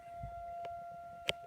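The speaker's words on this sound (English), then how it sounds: "Yeah, that's a siren going off." An STH-10 fire siren sounds for a CO alarm activation, holding steady distant tones for a brief moment alongside a faint knock or two.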